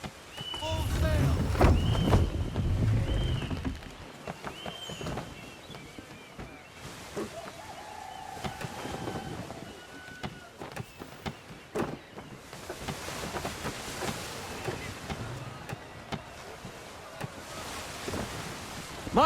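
Sailing ship under full sail in Assassin's Creed 3, with wind roaring, waves washing against the hull and wooden creaks, a low rumble at the start, and speech and game calls heard intermittently.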